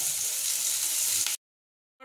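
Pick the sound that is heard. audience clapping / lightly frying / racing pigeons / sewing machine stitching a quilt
lightly frying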